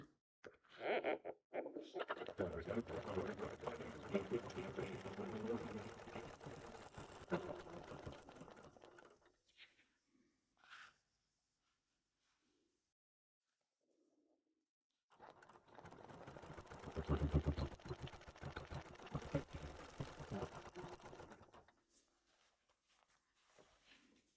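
A sewing machine stitches an orange color-pencil quilt block along a template, running in two long steady bursts separated by a quiet pause, with faint handling noises between them.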